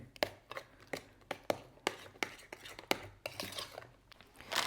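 Banana bread batter with sour cream being mixed in a bowl, a run of regular scraping, tapping clinks of a utensil against the bowl, close and fairly quiet.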